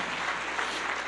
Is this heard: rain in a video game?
no